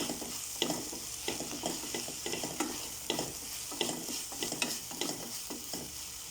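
Green chillies and curry leaves being stirred in hot oil in a pan, with a constant sizzle under repeated close scraping strokes of a spoon at an even, brisk rhythm.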